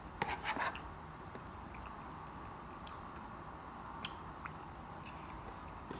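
Soft, close chewing and biting on cornbread during a Sunday dinner, with moist squishy mouth sounds and a few small crisp clicks over a low room hum.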